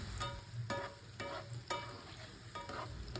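Chopped tomato goes into softened onions frying in a pan, giving a soft, faint sizzle with a few light stirring scrapes and taps.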